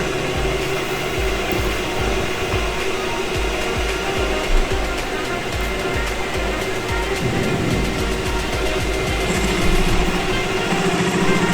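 A metal lathe chamfers a steel workpiece in a polytechnic machining workshop, giving a steady loud mechanical whir and hum with a rhythmic low pulsing throughout and no speech.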